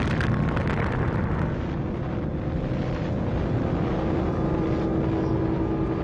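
An atomic bomb explosion: a dense, roaring, wind-like rumble that is loudest at the start and then holds as a sustained, steady blast noise for several seconds.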